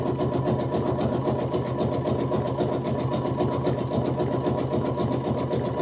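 A Kimberbell embroidery machine stitches out a design with a fast, even needle rhythm, loud and close throughout with no break.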